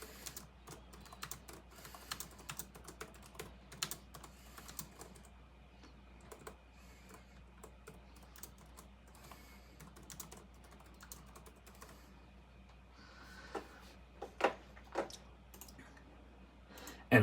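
Typing on a computer keyboard: a steady run of light, irregular key clicks at close range, with a few louder taps near the end and no voices.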